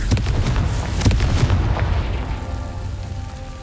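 A Confringo spell explosion in the game Hogwarts Legacy, a heavy booming blast with several sharp cracks up front that rumbles and fades over a few seconds.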